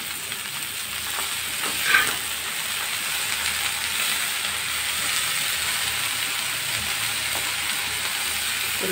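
Dhenki shak greens hit hot oil in a pan with already fried shrimp, giving a steady broad sizzle that hisses on evenly with a brief stirring clatter near the start.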